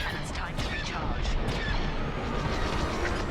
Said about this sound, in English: The guns make a pretty cool sound though, just like the real Star Wars.